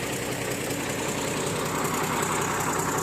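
A motor grader's diesel engine idles steadily and close by, giving a continuous low rumble with a faint knocking texture. It runs alone throughout, with no talk over it.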